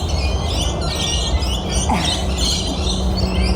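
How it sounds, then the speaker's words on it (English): Birds chirp and tweet over a constant low rumble of background noise, the calls scattered and fairly faint. "The birds are being very noisy."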